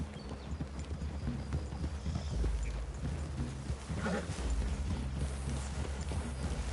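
Horse hooves clip-clop in a PS4 western video game, a steady stream of close, moderate hoofbeats over low ambient rumble, with no talk over them.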